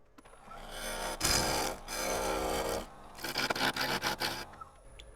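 A lathe tool cuts green apple wood for a hollow form, giving rasping, scraping passes in bursts with a fluttering texture, close and moderately loud, with no talking.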